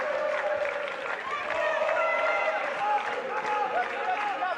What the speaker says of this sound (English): The songs, the chants, the claps behind that Germany bench, they've been going all game long